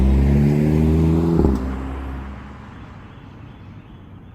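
A 2012 Audi TTS four-cylinder engine pulls hard in sport mode, its loud tone climbing in pitch for about a second and a half before the revs drop and it settles into a fading road whir.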